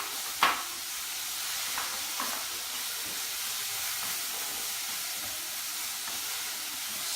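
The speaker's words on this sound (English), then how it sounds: "the reason why you caramelize onion is because you want to bring the sweetness out of the onion" Onions caramelizing in a hot pan give off a steady, even sizzle and hiss, close and continuous, with a brief stir or clink near the start and no talking.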